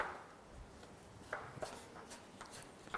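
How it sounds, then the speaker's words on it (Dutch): A knife chops fruit into small cubes on a cutting board in a shop kitchen, giving scattered soft taps and a few sharper knocks spaced irregularly, close and fairly quiet. "En dan is een kwestie van de fruit snijden."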